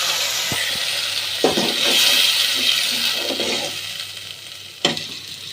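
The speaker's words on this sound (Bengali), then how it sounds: "পানি অ্যাড করলাম।" Water poured into lentils frying in a pan with cumin, a loud rushing hiss and bubbling swell up close that gradually dies down, followed by a sharp clatter near the end.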